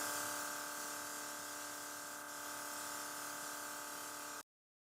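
Thin, steady hiss and whine of a Dinair airbrush compressor spraying makeup onto a face, constant and quiet for several seconds before stopping abruptly.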